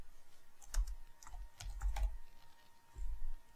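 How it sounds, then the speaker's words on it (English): Email addresses are typed on a computer keyboard in short bursts of soft, close key clicks with brief pauses, fairly quiet and with no talking. "you can also just simply type"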